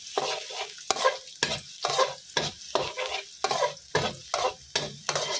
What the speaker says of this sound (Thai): พอน้ำมันร้อนได้ที่เราก็ใส่กระเทียมลงไปผัดให้สุกหอมค่ะ